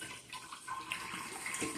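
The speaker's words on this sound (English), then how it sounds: "fill it the rest of the way up with water, stir it up real good." Water pours steadily into a container for a sugar wash, a continuous close splashing rush of moderate loudness with no talk over it.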